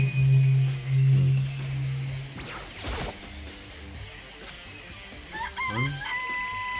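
A rooster crows and chickens cluck in a video game farmyard, the crowing loud at the start, followed by scattered clucks, a brief crash-like burst and steady game background tones.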